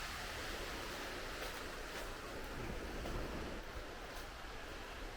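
Steady roar of ocean surf rolling in during Hurricane Fiona at Holland Cove, Prince Edward Island, a continuous wash of breaking waves with some wind noise, no voices.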